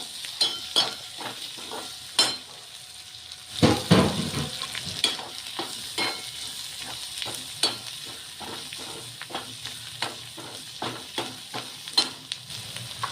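Onion with crushed fenugreek thecha frying in a pan, a steady sizzle broken by repeated stirring scrapes and a louder clatter of ingredients going in near the start, with no voices.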